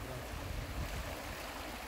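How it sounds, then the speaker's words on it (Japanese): The Linder river near Linderhof Palace murmurs in a soft, steady rush of flowing water, faint and even throughout with no voices. "ちょうど、今目の前に池、そして川のせせらぎの音が聞こえると思うんですが"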